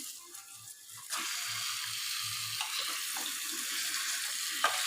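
Chicken pieces drop into a pan of sautéed tomato and onion, setting off a sudden loud, steady sizzle that keeps going close up, broken by faint stirring sounds.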